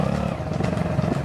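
A motorcycle engine runs close by with a steady, rough low throb and slight fluctuations, continuous throughout, with no voices.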